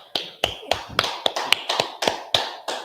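A few people clap in short, separate beats, roughly ten sharp claps spread evenly like a slow rhythmic clap-along, close and fairly loud, with no talk over them.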